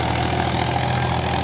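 Tractor engine working hard while pulling a cultivator pressed deep into the field, a steady, loud, dense drone with an irregular knocking beat throughout, alone without voices.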